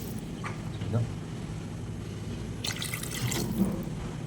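Water trickles and drips into a cooking pot of bottle gourd and potato gravy, with a short splashy pour near the end, fairly faint against a low background hum.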